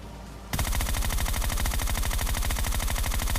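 Rapid automatic gunfire in PUBG starts abruptly after a brief quiet moment and continues as a dense, loud, evenly spaced burst of shots until the end.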